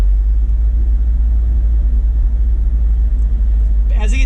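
A car driving through Spearfish Canyon, South Dakota, heard from inside as a loud, steady low road and engine rumble that holds throughout, with a brief faint rustle near the end.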